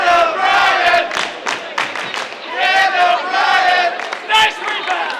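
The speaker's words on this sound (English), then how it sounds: "the pep band and the student section got pumped up to cheer on their boys" Pep band and student section cheering at a senior night college basketball game, a loud, continuous crowd roar with shouted chants and band sounds swelling and dipping in waves.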